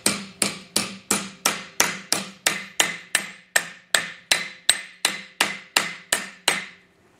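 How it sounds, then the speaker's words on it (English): Evenly spaced, ringing metallic steel hammer strikes on metal during a Willys CJ2A Jeep body build, about twenty in a row at a steady brisk rhythm, loud and close, with no voices. "sharpen that up with the steel hammer, Matt."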